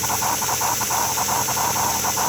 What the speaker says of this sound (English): We did not lose our chuff sound, and we did not lose the chuff smoke